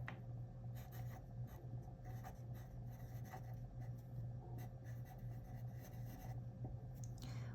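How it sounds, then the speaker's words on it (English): A pen writes on a piece of paper during a tarot reading, making a quiet, continuous scratching that runs in short strokes over a low steady hum, with no one speaking. "I'm going to write these down on a piece of paper"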